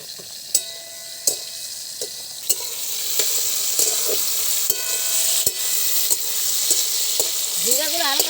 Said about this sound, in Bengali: ঝিঙ্গাগুলো হালকা হালকা ভেজে নিয়েছি, এবার নামিয়ে দেবো।